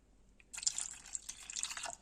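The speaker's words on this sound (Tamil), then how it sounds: "ரெண்டு கப்பு நம்ம ரெண்டு கப்பு பால் இதில் சேர்த்துருக்குறோம்" Milk is poured into soaked sago for halwa, a close splashing, gurgling pour that starts after a brief quiet and runs steadily for about a second and a half with no talking.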